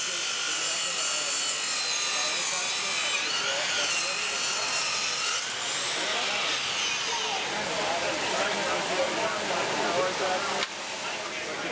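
A Makita 18V LXT brushless 10-inch cordless miter saw making a bevel cut in wood: a loud, sustained high-pitched whine of the blade biting through the wood, which drops off abruptly near the end.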